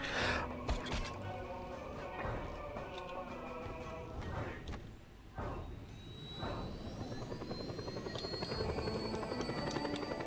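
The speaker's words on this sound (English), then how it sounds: "I knew they had a helicopter somewhere." A helicopter in the Just Cause 2 video game whirs and thrums under busy game audio, with gunfire-like cracks, engine tones and a rising whine building toward the end.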